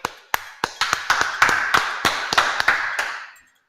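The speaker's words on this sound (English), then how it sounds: "Clap it up." Rhythmic hand clapping opening an online scripture class, a dozen sharp, close claps at a steady beat with a dense ringing wash behind them, fading out at the end.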